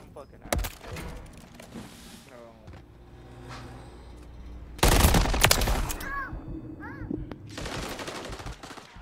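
Bursts of automatic gunfire rattle through a Call of Duty MW3 match on the Highrise map, with a heavy loud volley near the middle over busy game noise, explosions and chirping effects, while a player talks between shots.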